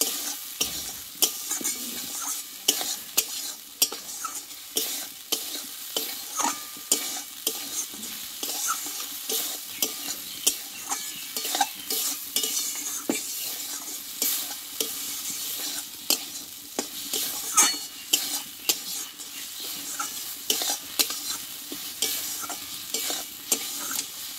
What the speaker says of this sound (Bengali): সরষে পোস্ত বাটা দিয়ে একটু ভালোভাবে কষিয়ে নেবো আর একটু মশলাটা